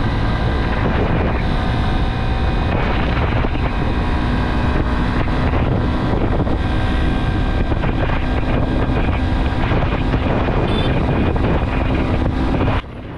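A 2025 Honda Shine 125 motorcycle revs hard at high RPM toward top speed, its engine drone steady and loud under heavy wind rush buffeting the microphone throughout.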